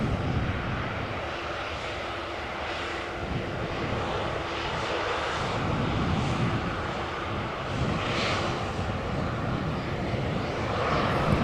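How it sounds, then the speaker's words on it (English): A KLM Boeing 737 airliner passes at Amsterdam Schiphol Airport as a steady, broad jet engine roar that stays moderately loud and even throughout, with a faint wind rush and no voices. "We've got a KLM 737 photobombing from the right in a second"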